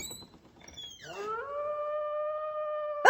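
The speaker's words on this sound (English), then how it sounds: "You're a wolf." A wolf howl used as a sound effect in a Little Red Riding Hood story: one long rising howl that levels into a sustained tone, loud and heard alone, ending with a brief sharp burst.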